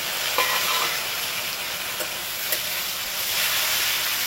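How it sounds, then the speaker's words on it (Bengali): Two finely chopped medium tomatoes fry in prawn oil, giving a loud, steady sizzle with a few soft stirring taps scattered throughout. "এবার দিয়ে দিচ্ছি টমেটো, এখানে মিডিয়াম সাইজের 2 খানা টমেটো আমি কুচি করে নিয়েছি, ঠিক পেঁয়াজের মতন করে। এটাকেও ভেজে নেব।"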